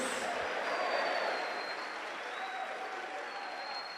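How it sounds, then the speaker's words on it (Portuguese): A congregation at an international church conference in Roraima claps and cheers in a loud, dense, continuous burst of applause, with a few faint whistle-like tones rising above it. "Você pode aplaudir o Senhor, querido."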